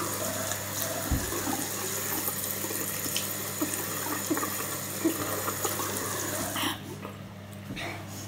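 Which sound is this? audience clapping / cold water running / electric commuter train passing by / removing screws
cold water running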